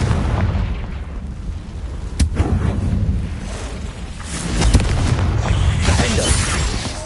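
In Hogwarts Legacy, a Confringo fire spell bursts with a loud boom amid ongoing rumbling combat noise, followed by another blast a couple of seconds later.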